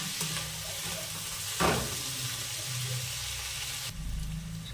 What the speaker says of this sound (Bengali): লবণটা দিয়ে দিয়েছি, এবার নেড়ে নেবো ভালোভাবে